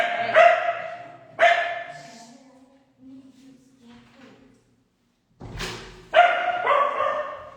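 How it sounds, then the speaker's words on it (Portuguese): A pet dog barks loudly and sharply in a few separate bursts, with a quieter gap in the middle where it goes still, heard up close inside a home while someone comes to collect the dog for a bath. "meu cachorro teve um ataque aqui agora que o rapaz veio buscar ele pra ir pro banho"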